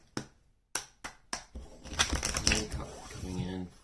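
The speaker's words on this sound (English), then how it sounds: "I'm going to just get one more shuffle here going." A few sharp tarot-card-shuffling riffles and snaps up close, followed by a longer stretch of softer shuffling with a voice talking over it.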